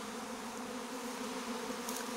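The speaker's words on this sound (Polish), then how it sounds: "Poczekamy, aż usiądą wszystkie pszczółki. I będziemy je strząsać." A honeybee swarm settling on branches, a dense continuous hum of many buzzing bees, steady and moderately close with no talk.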